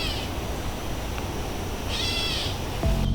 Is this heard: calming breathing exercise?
no